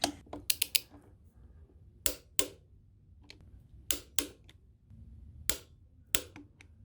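A ratchet clicks in short bursts while tightening 13 mm hex bolts on an AC compressor bracket on a Golf R engine, sharp and close with pauses between strokes.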